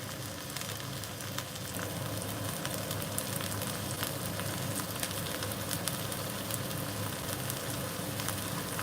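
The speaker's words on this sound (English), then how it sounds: "you just want that to simmer" Sweet and sour pork sauce with tomato simmers in a pan, a soft continuous sizzle and bubbling with small crackles, heard close up and steady, without any talking.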